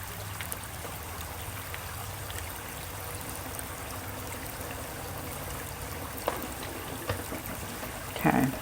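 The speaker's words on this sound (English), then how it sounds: "Now I'm going to soak them good." Water is poured over potted lithops plants to soak them, giving a soft steady trickle with faint splashing and a brief louder sound at the end.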